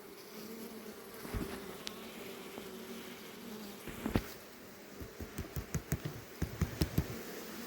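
Carpathian honeybees at an open hive give a steady, close buzzing hum, joined toward the end by a run of quick light tapping knocks from handling the hive.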